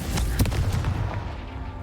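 The Confringo spell blasting in Hogwarts Legacy, a dense, heavy explosive rumble with several deep booming thuds packed together, loud and close, no talk.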